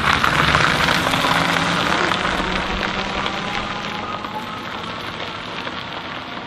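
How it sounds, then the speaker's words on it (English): Rain falls steadily at a wild camp beside a big river, a dense, loud patter on surfaces that eases slightly over several seconds, with no talking. "It's not but rain, is it?"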